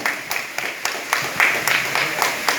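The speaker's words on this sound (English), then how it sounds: "Give them a round of applause for me" Scattered hand claps from an audience at an outdoor zoo Halloween event, cheering children drummers, come in separate sharp bursts of moderate loudness over a few seconds.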